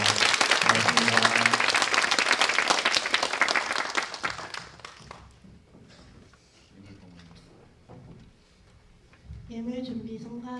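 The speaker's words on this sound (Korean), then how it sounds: "교수님께 다시 한번 큰 박수 부탁드립니다" Church congregation applauding a professor at a Wednesday Mass, a dense burst of clapping that fades after about five seconds, followed by quieter room sounds and a voice speaking at the end.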